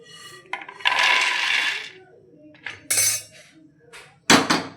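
Roasted makhana (fox nuts) scooped out of a pan with ghee, giving scraping and rattling clinks of a spoon against metal, with a sharp louder clatter near the end.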